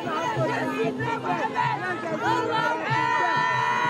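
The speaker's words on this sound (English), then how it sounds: "It's an extremely festive crowd." A festive crowd celebrates in Tripoli, a dense wash of many voices shouting and chattering together at steady loudness, with cheers rising throughout.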